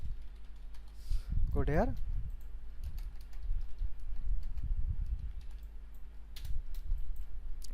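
Code is being typed on a computer keyboard, with soft, steady key clicks running under someone speaking Bengali throughout.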